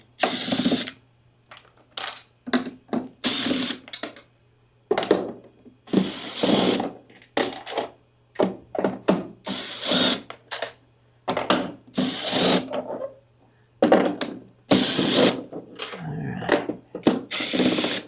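A power tool drives out torx screws from the cover of an Advance SC250 or Clarke MA 30 13B floor scrubber, whirring in many short, repeated bursts separated by brief pauses.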